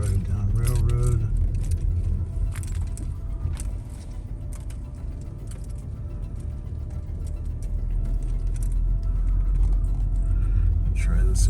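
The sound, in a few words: car driving behind the speaker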